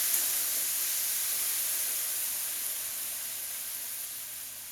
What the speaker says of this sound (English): So I'm going to put the chicken broth in now because I don't want this to burn.